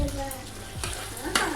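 Chopped tomatoes with salt being stirred in a hot pan, a steady soft sizzle broken by a couple of brief scraping strokes, close and moderately loud with no talking.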